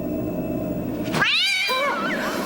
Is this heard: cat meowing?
yes